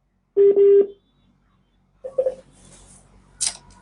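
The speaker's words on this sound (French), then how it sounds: "Voilà, le numéro est parti." Telephone keypad tones sound in a quick burst of three or four beeps, followed after a pause by a couple more short tones and a faint click, with no talking.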